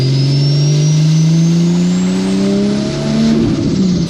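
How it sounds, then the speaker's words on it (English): A turbocharged car with a Garrett turbo revs hard and loud up close, its engine tone climbing steadily with a high whistling turbo whine rising above it, then dipping briefly and surging again. "Turbo noise on this thing is so good."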